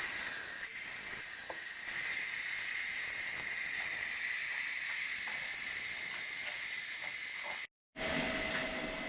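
Steam hisses from a cooker's pressure release while tomato ketchup is being made, a loud, steady jet with a whistling edge that runs for several seconds, then cuts off abruptly before resuming weaker.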